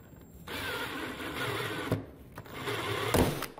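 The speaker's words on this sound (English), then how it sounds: "we're going to try to make some mounting holes for our generator" A drill bores mounting holes into a heavy-duty aluminum heatsink, giving a steady whirring, grinding mechanical drone for a few seconds with brief louder surges as the bit bites.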